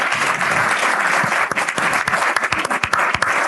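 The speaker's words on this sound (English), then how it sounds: "So let's give these guys another round of applause." An audience at a Northwest Arkansas affordable housing event breaks into steady applause, a loud dense patter of many hands with sharper individual claps standing out as it continues.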